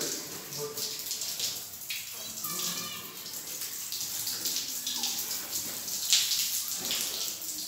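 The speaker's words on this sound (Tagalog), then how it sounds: "Ngayon binabasa ko muna ng tubig itong flooring." Water is poured over a flooring surface to wet it at a work site, a steady splashing and trickling flow heard close up with some faint voices in the background.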